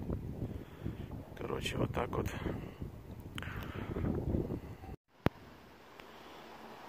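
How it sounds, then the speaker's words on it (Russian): Steady wind noise buffets the microphone while someone talks, with a sudden clack near the end before the gusts settle. "Уже ветер поднимается."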